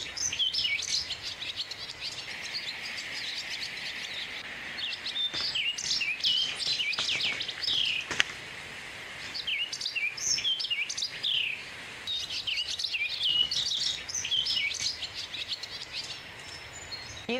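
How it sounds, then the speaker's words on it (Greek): A barn swallow sings continuously in a dense, fast series of twittering chirps and warbles, close and fairly loud over steady background noise, with no talking. "Μπορούμε να ακούσουμε αυτό το πολύ ωραίο χελιδονάκι, Αλεξία, που μόλις ανέφερες"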